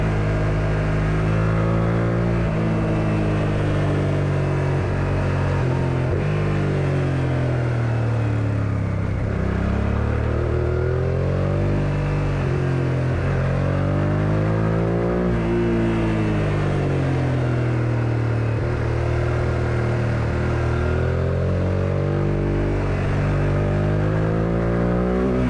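Suzuki SV650S motorcycle ridden on twisty roads, its engine note rising and falling continuously through gear changes and throttle swells, loud and close throughout with wind rush.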